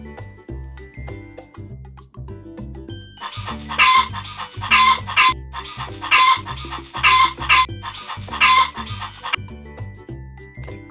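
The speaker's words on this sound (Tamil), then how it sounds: "கோழி" A hen clucks in three quick bursts of rapid, scratchy clucking, loud and near, set over a steady rhythmic music backing with quiet gaps between bursts.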